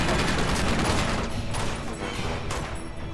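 A mounted turret in the Uncharted 2 video game fires a steady, loud burst of rapid gunfire that runs through the whole stretch.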